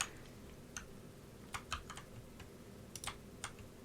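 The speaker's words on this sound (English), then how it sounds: "well, you definitely know when you clicked" A Logitech G604 gaming mouse gives a string of crisp, close clicks, some single and some in quick pairs, spaced irregularly against a very quiet background with no talking.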